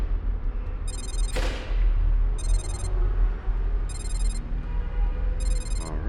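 A Motorola Moto Tag tracker mounted on a bike rings in four short, repeated electronic chime bursts at regular intervals, with a brief whoosh and background rustle between them.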